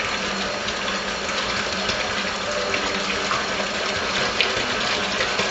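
A continuous whirring electric mixer churns cream into butter with a steady sloshing, buzzing drone, close and fairly loud, unbroken throughout.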